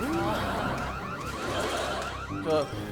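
A siren-like alarm sound effect plays on a Korean TV lecture show, rising tones over crowd noise and music, with a brief sharper tonal burst near the end.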